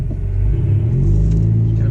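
A tuned Ford Mustang EcoBoost pulls onto a main road, its engine giving a steady, loud low rumble from inside the car as it makes a gentle, simple acceleration.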